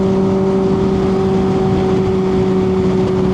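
A retro motorcycle's loud exhaust drones steadily at a constant pitch while commuting, with wind noise and no voices.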